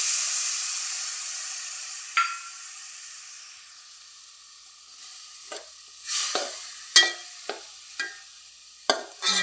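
Soaked kudampuli tamarind water poured into a frying fish curry brings a loud sizzle that fades into a hiss, followed by several sharp stirring scrapes and clinks near the pan, with no voices.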